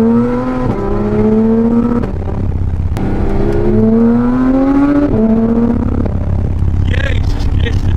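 A Porsche GT3 engine heard from inside the moving car, rising through the revs in repeated pulls with gear changes between them, loud and close, while people talk over it.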